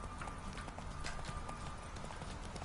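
Horse hooves clip-clop steadily in The Witcher 3, a quick, even trotting rhythm heard fairly faint under a wash of ambient game noise, with no talking over it.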